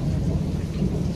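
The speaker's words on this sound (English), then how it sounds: "You hear that thunder?" Low rumbling thunder rolls steadily through a rainstorm, a dense continuous low-pitched roar with rain noise across the whole stretch, no voices present.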